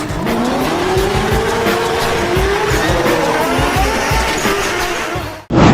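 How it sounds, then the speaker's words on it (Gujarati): Go-karts race on a large outdoor track, engines buzzing loud and close with continuous revving, tire squeal and skidding, the roar cutting off abruptly near the end. "સૌરાષ્ટ્રનો સૌથી મોટો ગો કાર્ટ રૂટ જે તને પ્રોપર છે ને F1 રેસની ફીલિંગ આવી જશે"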